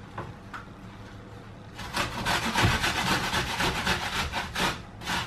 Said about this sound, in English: I am going to grate the carrot and the apple into a bowl